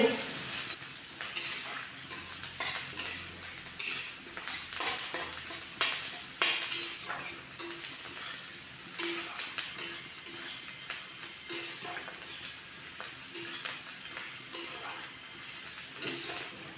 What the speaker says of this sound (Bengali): পেঁয়াজগুলোকে আমি হালকা লাল লাল করে ভেজে নেব